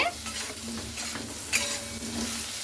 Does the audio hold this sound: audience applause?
no